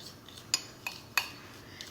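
Melted chocolate chips stirred in a bowl, a few sharp clinks of a utensil against the bowl at irregular intervals over a quiet background, fairly close.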